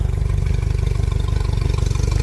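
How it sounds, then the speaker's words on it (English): A 2023 Mercury 60 hp Command Thrust outboard on a Sun Tracker Bass Buggy 18 DLX runs steadily up close, a loud, even drone with a fast, regular pulsing beat and no voices. "Running this 2023 Mercury 60 horse command thrust, CT command thrust on this Sun Tracker"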